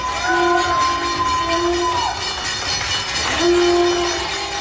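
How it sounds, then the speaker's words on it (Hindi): Neighbours in Ahmedabad greet a woman home from coronavirus recovery with sustained conch shell blasts that bend and fade, over continuous close clapping. "कोई ताली बजा रहा है तो कोई शंख बजाकर स्वागत कर रहा है।"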